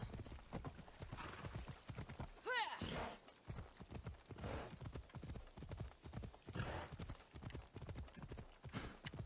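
A horse in the video game Assassin's Creed Odyssey, hooves clip-clopping in a steady rapid rhythm with a brief whinny partway through, while a player talks over it.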